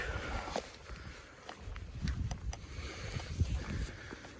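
Wind gusting across a cold lake in Wales during winter fly fishing from a high bank, a steady low rumble and buffeting on the microphone with faint rustling, no talk.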